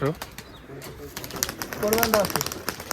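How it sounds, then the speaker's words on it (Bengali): Giribaj pigeons coo in soft, repeated throaty calls close by at a pigeon farm, with people talking over them and a brief flutter of movement. "হাসিবুল কবুতর অলরেডি ছেড়ে দিয়েছে যেখানে যাক কবুতর রয়েছে"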